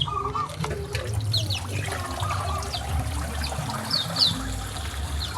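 Water turned on and trickling inside a small outdoor aviary for wild white-eye birds, a steady running dribble with faint bird chirps over it.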